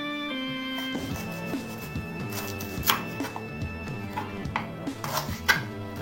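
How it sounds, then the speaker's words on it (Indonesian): A knife chops lemongrass into small pieces with a series of light, irregular taps on a board, heard faintly beneath steady background music. "sekarang kita akan potong-potong terlebih dahulu untuk serainya"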